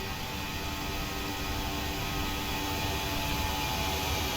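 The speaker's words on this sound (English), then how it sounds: "the modern aircraft aligned with the runway and commenced its takeoff roll" Modern airliner on its takeoff roll down the runway, before a short flight to Belfast: a steady, broad, loud jet engine roar that holds constant throughout, with no voices.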